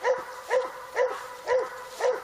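A dog barks during upland bird dog training on a check cord, five evenly spaced barks about half a second apart, moderately close and alone without talk.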